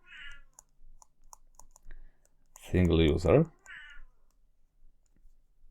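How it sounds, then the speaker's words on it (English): A domestic cat lets out one loud, drawn-out meow close by, set among light computer keyboard clicks, with brief talk just before. "my cat just keeps making noise, so I've got to let it out"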